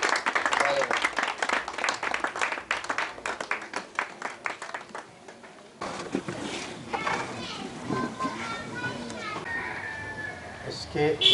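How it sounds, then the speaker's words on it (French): A ceremonial audience claps to welcome presidential couples at a formal event, with brisk, fairly close handclaps in the first half. The sound then cuts to a busier stretch of voices and crowd noise. "Sous vos applaudissements, s'il vous plaît, nous allons recevoir les couples présidentiels"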